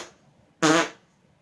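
A single loud, sharp fart burst lasting about a third of a second, standing alone in an otherwise quiet moment during a joke-telling session.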